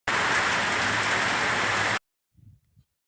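Steady, dense rain pours down loudly for about two seconds, then cuts off abruptly, followed by a brief faint low rustle.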